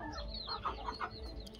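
Aseel rooster on a free-range desi poultry farm giving a few soft, close clucks in quick succession over low background noise.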